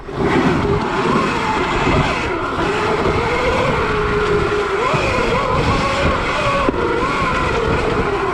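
A Zero electric dirt bike, run on an 80V lawnmower battery, whines and surges steadily while riding through woods, with rough rumbling and crunching from the terrain below, loud and close throughout.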